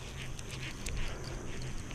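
A horse moving about close to the water at a night fishing spot, giving a steady, dense rustle of movement that stays fairly even and near throughout, with no clear talk over it.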